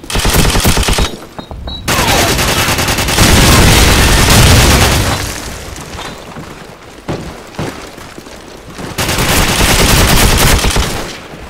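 M60 machine gun fire in Call of Duty 4 pours out as loud, sustained automatic bursts, separated by short gaps, with no talking over it.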